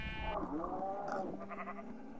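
Sheep in a video game bleat in a short wavering cry, followed by a second quieter bleat, fairly clear over faint background noise.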